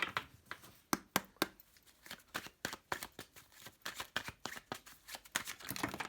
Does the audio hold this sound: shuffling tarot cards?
yes